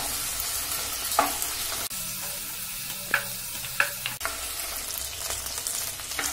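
Prawns sizzle in hot oil in a pan, with a steady frying hiss broken by a few sharp scrapes and clinks of stirring, close and without speech.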